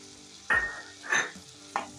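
Chopped tomato tossed into frying okra masala for dahi bhindi: three bursts of sizzling and stirring, each flaring then fading, close and moderately loud with no talk.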